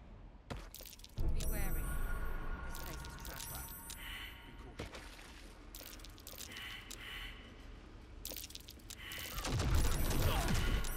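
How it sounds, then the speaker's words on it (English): Mine traps detonate in the video game Baldur's Gate III, giving bursts of crackling, shattering blasts and clattering debris across a busy in-game soundscape, loud and close at the start and again near the end. "I just heard explosions behind me."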